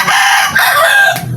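A large Shilton rooster with a long tail and white feet crows loudly at close range, the drawn-out call broken by a few clucks, with no talk over it.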